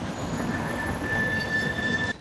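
Train wheels squeal at Manchester Piccadilly station, a sustained high-pitched metallic whine over a steady rolling rumble, loud and close, cutting off abruptly at the end.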